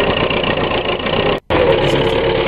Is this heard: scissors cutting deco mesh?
no